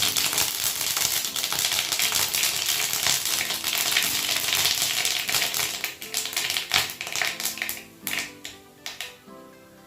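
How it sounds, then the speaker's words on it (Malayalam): Rapid, dense crackling and spitting of mustard seeds popping in hot oil, continuous at first and then breaking into scattered sharp pops that thin out toward the end. "കടുക് പൊട്ടട്ടെ"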